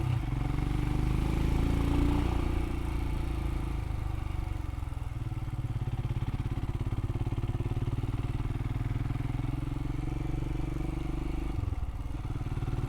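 A motorcycle rides along country roads in Wales, its engine droning steadily and close for the whole stretch, with a brief shift in pitch near the start and a dip near the end.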